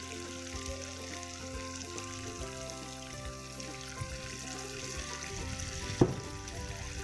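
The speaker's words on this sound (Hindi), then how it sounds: "अब हम इसमें पानी डालेंगे।" Water poured into a pan of frying chicken for biryani, a soft steady sizzle and bubbling with light clinks and one sharp knock near the end, no talk.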